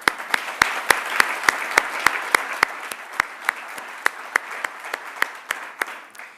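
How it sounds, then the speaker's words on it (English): Sparse applause at a civic strategy launch event in New Orleans: a small audience claps in loud, distinct, fairly regular individual claps for several seconds, with a faint murmur of voices in the room. "I think we should all give them a round of applause"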